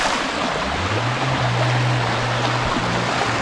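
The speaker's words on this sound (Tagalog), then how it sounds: "Ang tubig." Stream water in a rural farm setting flows in a steady, close rush that lasts the whole few seconds, with a low droning tone rising briefly in the middle.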